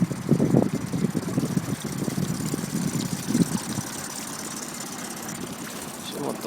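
A Tohatsu 9.8 outboard motor runs on a small boat out at sea, a steady mid-pitched drone under hiss and wind noise, louder at first and easing slightly toward the end.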